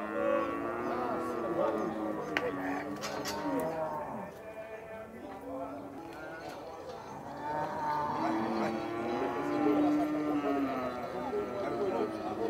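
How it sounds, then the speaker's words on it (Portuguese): Cattle at a livestock fair in Campina Grande, Paraíba, give long, low, drawn-out moos that come and go under steady nearby talking and crowd noise. "Olha o boi brabo aí na feira"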